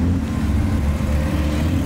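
A Porsche GT4 RS at a cars and coffee meet passes close by with a loud, steady engine drone, a continuous rumble with no voices.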